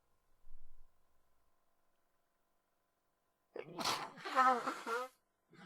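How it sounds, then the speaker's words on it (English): After a few seconds of near silence, a sudden loud sneeze bursts out close by, followed by a breathy vocal exhale. "Apologies for the sneezing, everybody."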